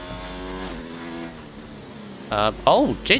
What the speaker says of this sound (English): I can hear a car as they go around the last corner